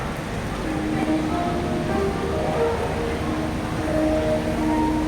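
Steady rain falls around a tree-sheltered spot at an old train yard in Makkasan, Bangkok, a dense continuous hiss that holds at an even level for the whole stretch, with no voices.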